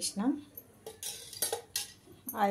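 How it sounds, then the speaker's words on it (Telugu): A spoon clinks against a metal pan and utensils while oil is added during parotta cooking, several short close metallic taps and scrapes spread over a couple of seconds in a quiet kitchen. "ఈ స్పూన్ తోటి 2 స్పూన్ల ఆయిల్ వేస్తాను"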